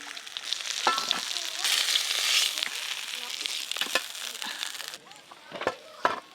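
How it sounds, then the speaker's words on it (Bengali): Bitter gourd pieces fry lightly in oil, with a bright sizzle that swells and fades beside a few sharp knocks of a spatula against the pan. "এবার আমি করলাগুলো হালকা করে ভেজে নেব।"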